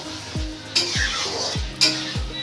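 Mutton cooking in a wok is stirred with a utensil, giving soft scraping strokes and two sharper metallic clinks against the pan over a steady sizzle, close and with no talk.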